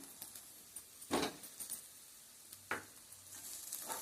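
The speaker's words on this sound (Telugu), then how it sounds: "ఉల్లిపాయ మనకి బాగా వేగిపోయింది" Onions frying in a pan for an egg and taro curry, a soft steady sizzle with a few louder crackling bursts and stirring clatters, fairly quiet and close.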